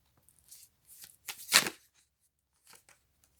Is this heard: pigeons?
no